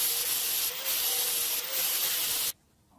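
Steady, continuous rasping of 40-grit sandpaper rubbed over metal casting marks on a small hammer part, close and loud with brief dips in the stroke, then stopping abruptly into near silence.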